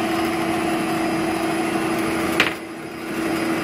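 Bosch stand mixer kneading bread dough at medium speed, a steady motor hum with a constant tone running throughout and one brief knock partway through.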